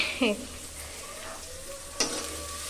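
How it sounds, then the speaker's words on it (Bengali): Onions sizzle steadily in a hot pan, with a couple of brief scraping stirs and a faint clink over the frying hiss. "পেঁয়াজটা ভেজে নিচ্ছি"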